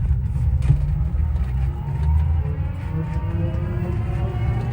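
A 2024 Meco electric car, a golf-cart-like vehicle, pulls away and accelerates forward with a steady low drive hum and road rumble, heard from inside the cabin with no talk.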